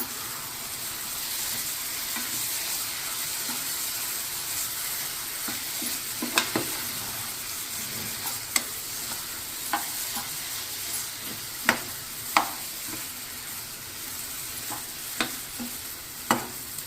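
Boiled eggs going into a sizzling egg curry in a pan, a continuous soft sizzle and hiss punctuated by scattered clinks and scrapes of stirring.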